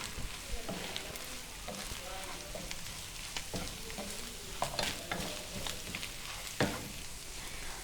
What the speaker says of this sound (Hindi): मसाले को हमने चिकन में डालकर भून लेना है। लो फ्लेम पर भूनेंगे